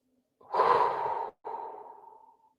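Deep breathing during a breathwork exercise for stress relief: a long loud exhale, a brief pause, then a second softer breath out fading away, close to the microphone.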